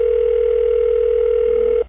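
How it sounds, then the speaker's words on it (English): Telephone tone on an outgoing call, a loud steady single-pitch tone held continuously and close before cutting off abruptly at the end, with no talk over it. "Is it ringing? Do you guys hear that?"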